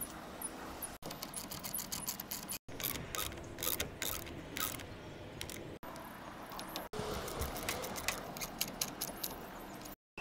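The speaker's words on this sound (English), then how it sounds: "Reinstall the two screws holding the fender light into place." Reinstalling the two screws on a GMC Sierra 2500/3500 fender running light makes soft, close ratcheting clicks and light metallic tool handling. The clicks come in quick irregular bursts over a quiet background.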